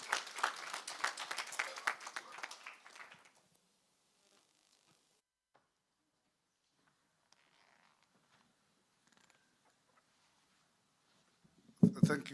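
A short burst of applause rises for a speaker at a skills development graduation ceremony, a few seconds of scattered clapping that quickly dies into near silence before a brief bump of handling noise.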